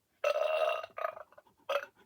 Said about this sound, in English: Please stop burping.